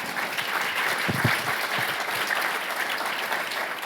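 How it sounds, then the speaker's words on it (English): A studio audience at a CUNY TV Power Breakfast event applauds steadily, a dense wash of many hands clapping at moderate volume and sustained throughout without breaks. "you should give him some applause for that."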